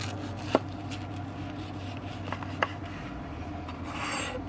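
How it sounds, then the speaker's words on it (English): A knife saws through a pellet-grilled bacon and egg cheeseburger, making a soft, rasping scrape with a few sharp clicks as the blade meets the board, close and quiet. "let's cut that in half and see how we did on the burger"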